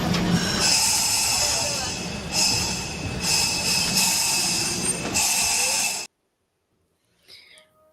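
A downtown trolley train rolls along its rails in a steady, loud rumble with faint wheel squeal and surging bursts. After about six seconds it cuts to near silence, broken only by a brief faint sound near the end.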